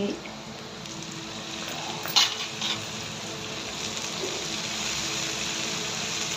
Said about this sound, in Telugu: కరివేపాకు వేయించిన కడాయిలోనే మనము గోంగూర అనేది వేయించుకోవాలి